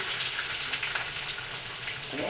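Shallots and sliced onion frying in a little oil in a hot pan for a fish curry, giving a steady, close, fairly loud sizzle that runs without a break and with no talk over it.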